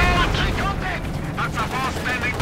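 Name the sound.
tank gunfire and explosions in Company of Heroes 2 video game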